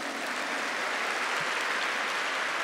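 A church congregation applauds during a Marian sermon, a dense, even wash of clapping that holds steady and fairly soft for a few seconds.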